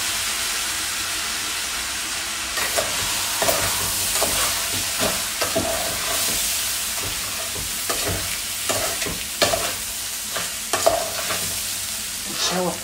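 Rice is sautéed in ghee and stirred in a pot, with a continuous sizzle broken by repeated scraping strokes and soft clanks of the spoon, close and fairly loud, with no talking.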